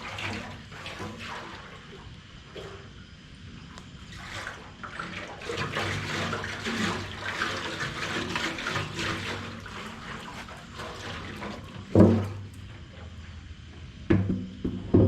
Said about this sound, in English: So now I'm just going to get this sloshing around.